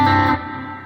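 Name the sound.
guitar with plate reverb effect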